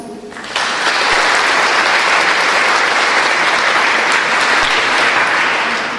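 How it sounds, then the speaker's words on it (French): An audience at an evening civic gathering breaks into loud, sustained applause that swells in quickly after a brief moment and holds as a dense wash of clapping, close and full, with no talking over it. "On peut les applaudir"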